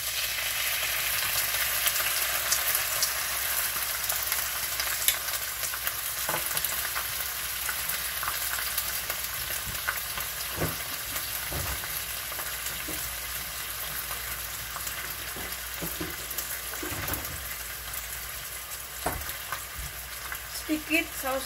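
Bok choy stir-frying in a pan with chicken broth, a steady loud sizzle throughout with scattered clinks and scrapes of stirring, close up, no talking.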